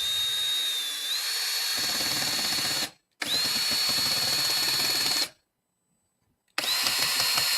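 A cordless power drill drives a screw into wall lath during plaster wall repair, whining in two sustained close bursts separated by short silences, then starting a third run; no talking over it.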